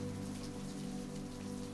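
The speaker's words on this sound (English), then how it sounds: "The rain has softened to a slow drizzle," Slow, gentle drizzle falls on a quiet cobblestone street on a rainy night near a ramen shop, a soft, steady patter of raindrops that holds even throughout with no voices.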